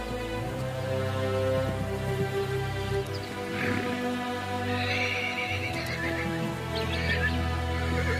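Wild horses of a Snowy Plains band led by a stallion, with loud neighs and whinnies repeating through the stretch over a steady background, and faint hoof clops in places.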